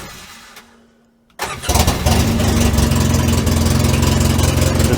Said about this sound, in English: It started, sounds terrible.